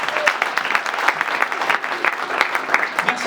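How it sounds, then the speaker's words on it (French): A church congregation claps for a couple in a steady, lively burst of applause, dense hand claps filling the room throughout with a faint murmur of voices underneath. "Can we clap for them,"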